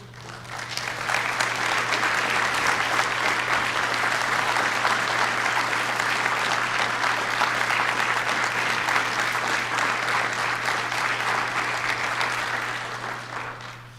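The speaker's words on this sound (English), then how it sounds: "Thank you, everybody, for that round of applause for them." Room full of people at a softball association council closing session giving a sustained round of applause, even and steady for around twelve seconds before tapering off, with a low electrical hum underneath.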